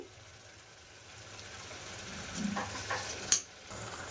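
Tomato paste fries in a pan for a prawn and egg curry, a faint, soft sizzle that rises gradually, with a few light spoon-against-pan scrapes and one sharp clink near the end.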